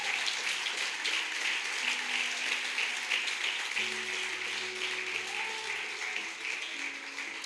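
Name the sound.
church congregation applause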